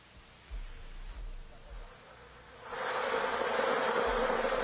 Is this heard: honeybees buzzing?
yes